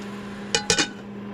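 A metal cooking pot on an RV stove, with a plate set over it as a makeshift lid, clanks in three quick close knocks against a steady low hum.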